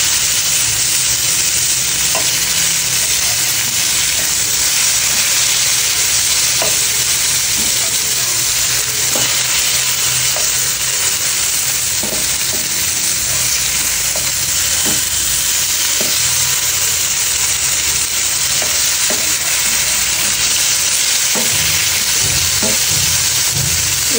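Fish frying in hot oil after being turned over, a continuous close sizzle broken by small clicks and scrapes of the spatula as pieces are flipped, with no voices.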